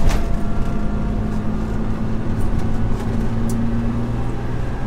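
Datsun 280Z with its L28 engine pulls through the revs on a test drive, a steady low engine drone with road and cabin noise throughout, heard from inside the car.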